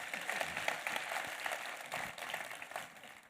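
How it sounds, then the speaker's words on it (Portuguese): A church congregation claps together during a service, a soft, distant, continuous patter of applause that rises and falls slightly, with no one speaking over it. "aplauda a Deus pela vida do Alex"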